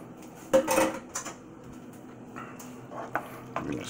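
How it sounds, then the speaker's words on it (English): A spoon stirs canned vegetables into beef pasta in a metal pot, giving close clanks and scrapes, with one loud clatter near the start and lighter knocks after. No voices are heard. "I'm gonna stir in some veggies."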